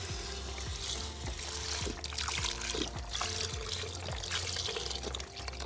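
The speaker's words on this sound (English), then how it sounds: "now we are going to add all of our chicken broth to that" About 4 cups of chicken broth pour steadily into a pot, a continuous splashing trickle with small glugs, close by and fairly quiet, with no talking.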